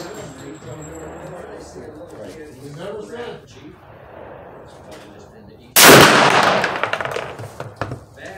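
A single loud, close rifle shot rings out while testing a shoulder recoil pad, a sharp blast followed by a decaying echo, after a stretch of someone talking.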